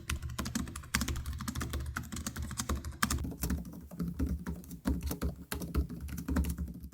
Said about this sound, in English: The TUF has a little longer key travel and sounds and feels a bit thumpier, while the Zephyrus is a little bit clickier.